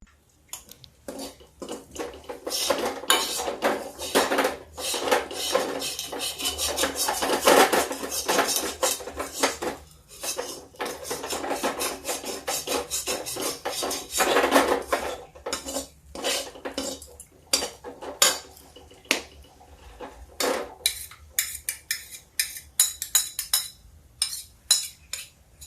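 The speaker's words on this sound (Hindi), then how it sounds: "ये देखिए, ये इसको भून लेते हैं, फिर आपको दिखाते हैं।" A utensil scrapes and clinks against a metal pan while ground green peas are stirred and roasted, a busy, irregular clatter that continues throughout without speech.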